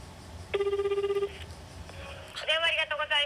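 A telephone rings on a call to a ramen shop in Nobeoka, two clear ringback bursts followed by a higher tone, with a faint background hum.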